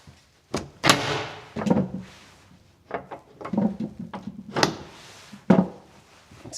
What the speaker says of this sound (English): The old door.